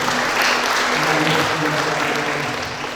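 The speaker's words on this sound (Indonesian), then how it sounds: "Tepuk tangan untuk kemuliaan nama Tuhan." Sustained church congregation applause at a Christmas service, a dense steady wash of many hands clapping at full loudness for the whole stretch, with faint voices mixed underneath.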